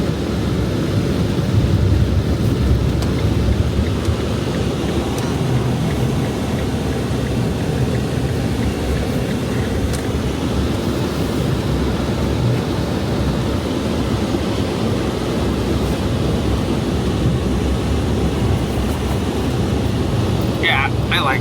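Wind gusting around a van parked out in a blizzard, a steady loud roaring rush that continues unbroken with little variation in level.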